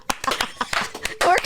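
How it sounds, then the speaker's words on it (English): A few people clap hands in short, uneven bursts close by, with sharp individual claps that grow into a denser patter at the end, mixed with brief voices. "We're clapping"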